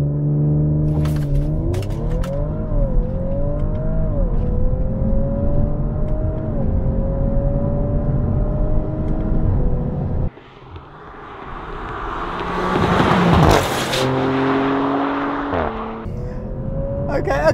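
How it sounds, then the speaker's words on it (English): A 2018 Audi RS5 making an all-wheel-drive launch control start, its engine rising through several gear shifts, then a louder roaring, whooshing burst as it pulls away close by, with a voice talking along the way. "all-wheel drive launch control, not too shabby"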